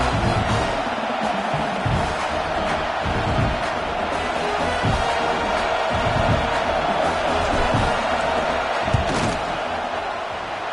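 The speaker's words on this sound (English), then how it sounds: "This crowd trying to do its part to get inside the kicker's head." Dense roar of a football stadium crowd making noise before a field goal attempt on fourth down, a continuous wash of voices with scattered thumps and shouts.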